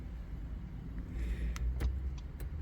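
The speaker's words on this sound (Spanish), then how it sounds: "Arrancó el carro perfectamente." A Honda Pilot car engine starting after a newly added key is used, heard as a steady low rumble with a few sharp clicks and brief higher bursts, fairly close with no talking.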